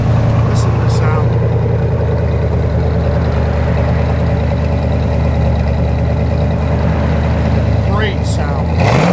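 A 1965 Chevrolet Corvette with the L76 engine idles close by, a steady deep rumble that persists throughout, with a brief rev near the end and faint talk in the background.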